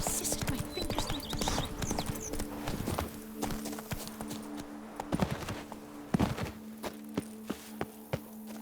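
Horse hooves clip-clop in the Witcher 3 video game, a steady near walking rhythm of hoof taps over soft ambient background with a few sharper steps toward the end.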